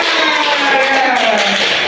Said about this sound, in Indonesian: Ya, tepuk tangan untuk Nia.